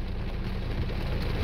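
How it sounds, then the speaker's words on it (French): Heavy rain pours steadily during a Cévennes thunderstorm, a dense continuous hiss with low rumbling underneath, heard from inside a car. "Et qui recommence à pleuvoir"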